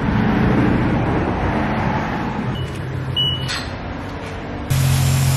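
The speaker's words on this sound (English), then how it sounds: "Is that when I go to the car wash for fun." An automatic car wash runs with a steady, loud rush of spraying water and mechanical whirring, the drone shifting in tone partway through and a fresh burst of spray near the end, with no talk.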